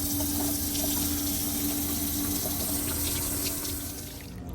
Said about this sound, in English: Before you put this pillow in your hot tub, you are going to want to rinse it off for about 30 to 60 seconds.